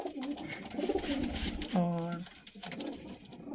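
A pigeon coos softly, a low throaty burble heard close by beneath a person talking.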